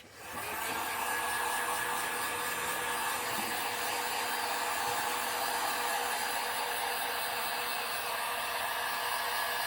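A steady, loud blowing whir of a heat gun setting paint on a fishing lure runs continuously, starting abruptly and holding an even pitch throughout.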